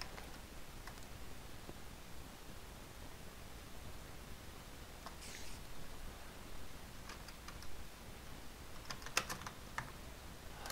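Light keyboard typing during a Feed The Beast Minecraft session, with faint scattered key taps over a steady hiss of background noise and a couple of slightly sharper clicks toward the end.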